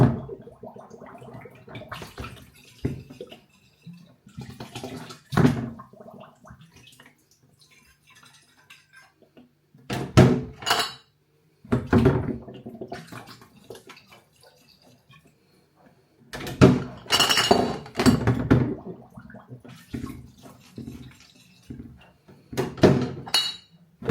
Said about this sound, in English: I'm now going to sterilise them using the usual sterilising fluid, and then we're ready to fill them up and cap them really.